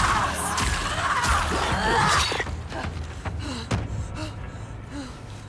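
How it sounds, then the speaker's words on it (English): A big, boomy scream from the video game Hellblade II, loud and dense for about two seconds, then breaking off into quieter, sparse after-sounds and faint groans. "That big boomy scream was timed exactly with Iggy doing a big yawn."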